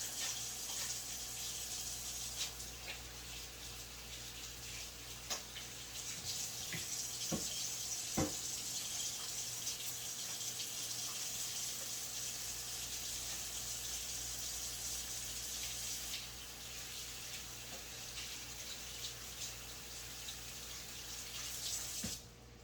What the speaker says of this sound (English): I'm going to wash my hands since I touched the beef